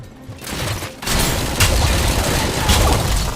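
An old SMG in the game Robocop: Rogue City fires bursts of rapid shots after a short quiet gap, loud and close with crackling impacts throughout.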